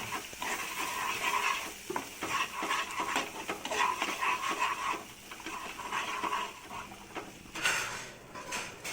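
An onion chutney mixture with smooth paste added is stirred in a pan, giving steady scraping and soft sizzling that continues in irregular strokes for several seconds, moderately quiet.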